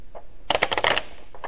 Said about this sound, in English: since this is not a class on how to shuffle cards, I'll just do it as best I can